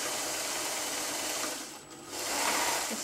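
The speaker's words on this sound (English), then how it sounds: "Just roughly sew around the shape, not right on the edge, just in from the edge." A freshly oiled sewing machine stitches roughly around a fabric shape with a close, continuous mechanical whir. It pauses briefly midway, then runs on steadily, with no voices.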